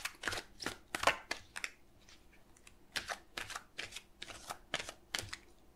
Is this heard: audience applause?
no